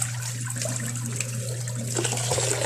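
Rice being washed under running tap water in a home kitchen, a steady close splashing flow that continues for the whole moment, with a low electrical hum underneath and no talking.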